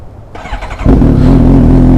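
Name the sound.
motorcycle engine starting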